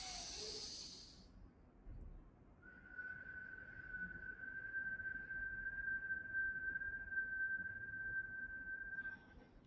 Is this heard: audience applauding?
no